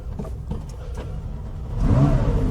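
A McLaren GT4 race car engine cranks and catches near the end, rising into a loud, raspy idle after a couple of seconds of quieter mechanical noise.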